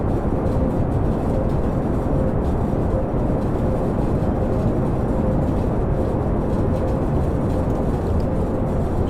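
Space shuttle main engines in a flight video game throttled up to full power, a steady dense roar that holds at constant loudness with no breaks from start to finish.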